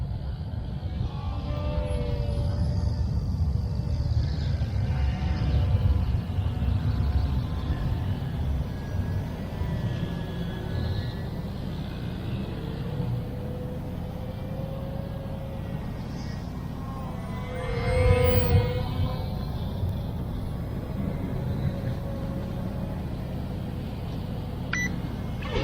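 An XK X450 Aviator VTOL drone plane flying, its motors giving a steady whining drone with shifting tones and a brief louder swell, heard continuously without speech.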